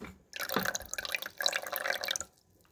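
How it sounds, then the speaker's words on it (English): Water from an Al Jazari water wheel pump drips and trickles into a collecting container in a steady, close run of drops lasting about two seconds, then falls quiet. "inside the container, you will see that the water is being collected"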